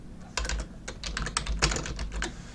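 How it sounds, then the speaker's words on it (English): Quick bursts of keystrokes on a computer keyboard as a field label is entered, a close, crisp run of irregular clicks over about two and a half seconds, no talking. "So I'm just going to type in a new custom field, and I'm going to put in my label."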